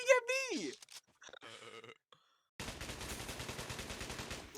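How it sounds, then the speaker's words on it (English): Rapid automatic gunfire in Garry's Mod rattles in a loud sustained burst after a voice cries out and brief silence, the shots evenly spaced and close. "Why are you shooting at me?"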